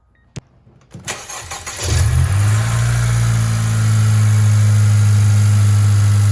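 A 2018 Honda Civic Si engine with an aftermarket exhaust cranks and starts after a few clicks, then settles into a loud, deep, rumbling idle that drones steadily.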